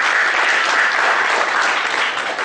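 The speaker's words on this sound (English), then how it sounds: "applause" Seminar audience at an auditing standards session giving a round of applause, a dense, even wash of many hands clapping, loud and sustained with no voices over it.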